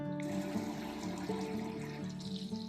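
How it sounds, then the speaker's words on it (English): Hot water running from a tap on a sailboat fed by a calorifier, a quiet steady trickle and splash in a small galley sink, continuous and alone without talk. "Moment of truth. Have we got hot water?"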